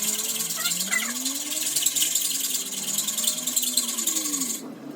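A hacksaw trims down a bicycle axle in place on the bike, its blade rasping in steady back-and-forth strokes close by. The sawing stops abruptly just before the end.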